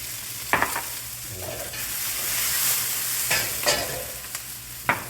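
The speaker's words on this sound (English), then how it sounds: "Once that's going, we can go ahead and get our onions in here as well." Ginger and onions stir-fry in a cast iron bowl, a continuous close sizzle broken by several sharp scraping strokes of a utensil at irregular intervals, with no talking.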